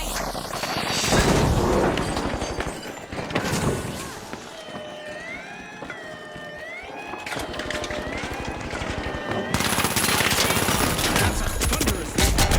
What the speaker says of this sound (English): Firing thermite.